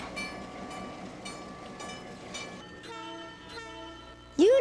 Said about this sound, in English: Here is a very old box cab electric.